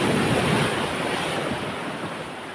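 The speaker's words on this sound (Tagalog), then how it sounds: "Ganun kalalakas yung alon." Strong ocean waves crash and wash close by, a loud broadband roar that slowly fades, with wind buffeting the microphone and no voices.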